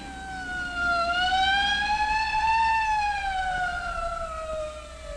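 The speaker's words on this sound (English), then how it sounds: "Hey, a police car." Police car siren in a 1957 science-fiction film, a loud wailing tone that rises and then slowly falls, heard clearly over a low background hiss with no speech.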